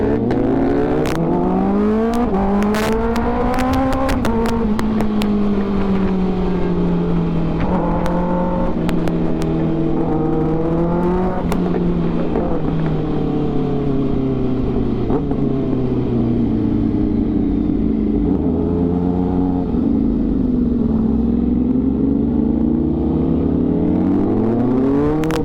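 Loud, sustained engine roar from a BMW S1000RR and a Kawasaki Ninja ZX-6R accelerating through traffic, pitch sweeping up and down with repeated throttle surges and gear changes, close to the microphone throughout.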